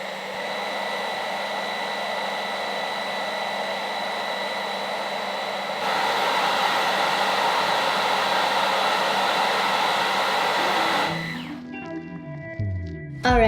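A Dyson Gen 5 Detect cordless vacuum cleaner runs in its powerful mode with a loud, steady, high-pitched whine and rushing airflow. The whine steps up in level partway through, then cuts off near the end, leaving brief handling clatter.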